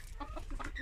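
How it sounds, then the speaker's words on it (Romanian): A hen gives a brief, close burst of clucking, several short calls over a low background rumble. "Uite acolo găinule."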